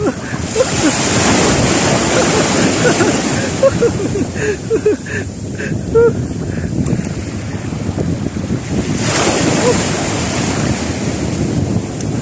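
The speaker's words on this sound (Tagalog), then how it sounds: "may alon na naman mga kaidol." Ocean waves wash and surge around the listener amid heavy wind buffeting the microphone, loud and continuous, with a swell building near the end.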